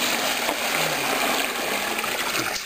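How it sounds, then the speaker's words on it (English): Water pours steadily into a container while preparing for an oyster mushroom farming course in Malawi, a continuous close splashing trickle that fills the whole stretch without pause. "First of all, pour some water."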